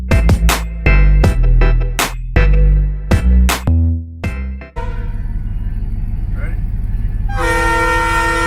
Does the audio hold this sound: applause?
no